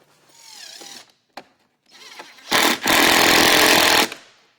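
A power drill drives screws through a barrel end cap into wooden 2x2s: short whirring starts, then a loud, close, grinding burst lasting over a second before it stops.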